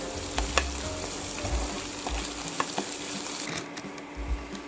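Crushed ginger and garlic sauté in oil over a low flame for pineapple pickle, a steady moderate sizzle punctuated by sharp spoon taps and stirring scrapes.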